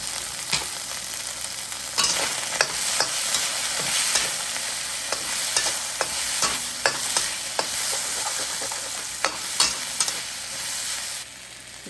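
Fresh ginger and garlic fry in hot oil for restaurant-style chicken chilli dry, giving a loud, steady sizzle broken by repeated scraping strokes of a spatula close by.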